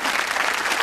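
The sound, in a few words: studio audience applause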